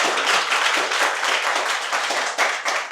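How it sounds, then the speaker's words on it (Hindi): Audience clapping along at a devotional talk on Lord Ram's life at ISKCON Gurugram, a dense, steady patter of many hands that stays loud and close for the whole stretch with no voices over it. "ताली बजाओ कम से कम।"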